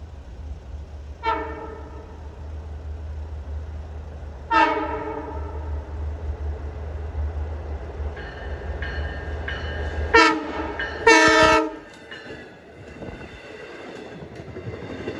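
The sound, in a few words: passenger train approaching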